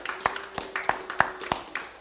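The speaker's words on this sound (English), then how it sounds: "Give the Lord a hand clap." A church congregation claps hands together in a steady, evenly spaced rhythm, crisp sharp slaps repeating about every third of a second, with a faint tone lingering underneath.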